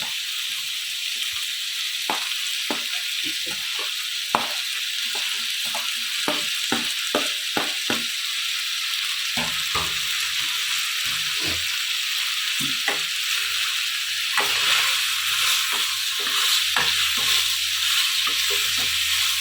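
Onions, shallots and curry leaves fry in hot oil with a loud, continuous sizzle, broken by repeated sharp crackles and stirring scrapes, with no talk.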